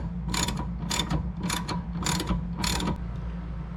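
A hand ratchet tightens the bolt on a Nissan Altima rear shock absorber, five quick bursts of sharp clicking in a steady rhythm, close up against a low background hum.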